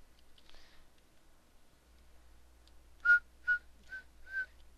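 A person whistles a short tune, four clear, separate notes in a quick run after a faint earlier phrase, close and quiet against near silence.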